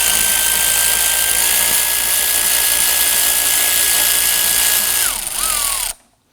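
A power tool spinning loose the 10mm radiator bracket bolts on a 2015-2024 Nissan Murano 3.5L V6, giving a steady, loud high whine for about five seconds that winds down, blips once more, then stops.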